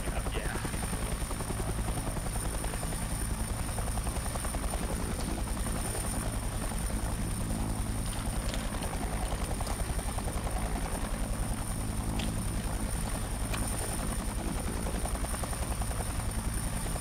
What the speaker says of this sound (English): Oh, there's a Chinook.